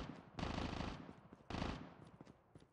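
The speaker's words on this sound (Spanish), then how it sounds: "Ahí están disparando." Machine gun fire in Call of Duty Mobile, two short loud bursts of rapid automatic shots, followed by quieter scattered distant shots.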